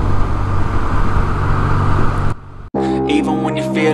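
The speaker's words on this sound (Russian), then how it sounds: "куча машин." Busy road traffic on a highway near Kraków heading toward Zakopane, heard from a BMW R1100RT motorcycle: a continuous loud roar of engines and wind that cuts out briefly, then returns with passing vehicles.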